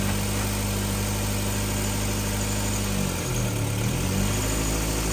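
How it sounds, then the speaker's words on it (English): Honda CRX engine after a hydro transmission conversion, running steadily up close as the clutch engages, with a brief dip and wobble in the engine note midway through. "Check out the clutch engagement"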